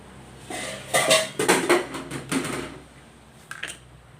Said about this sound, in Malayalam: ഇനി അരപ്പൊഴിച്ചു കൊടുക്കാം